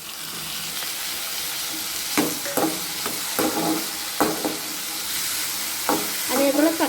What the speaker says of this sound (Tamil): இப்போ வந்து இதோட தக்காளியும் சேர்த்துருவோம்